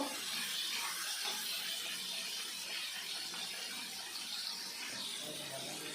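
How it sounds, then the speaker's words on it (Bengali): Tomato and a bay leaf fry in a pan, giving a steady, hissing sizzle that stays even and fairly quiet throughout, with no other sounds. "এবার একটা তেজপাতা টমেটোটা আমি ভালো করে ভেজে নেব"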